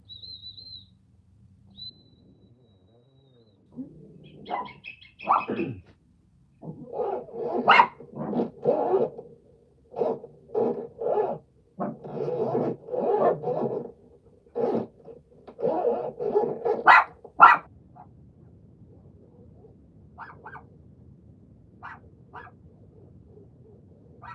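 A dog barks in a long run of repeated, moderately loud barks outdoors, with a few bird chirps and some distant background noise around it.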